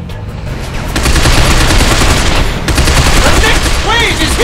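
Dense rapid gunfire from the third-person shooter Binary Domain, sustained bursts of automatic weapons fire close and loud, thickening after the first second, with shouted voices mixed in and some high metallic ringing near the end.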